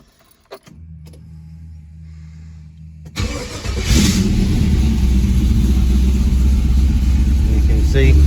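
Triumph Stag fitted with an LS1 V8 engine: keys jingle, a fuel pump hums, then the starter cranks and the V8 catches, settling into a loud, steady high idle close by.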